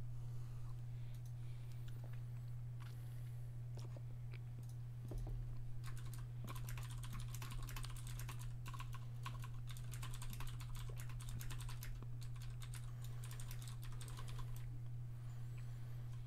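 Computer keyboard typing in clattering bursts of quick key presses, growing denser and busier in the second half, over a steady low electrical hum during a Magic Online cube draft session.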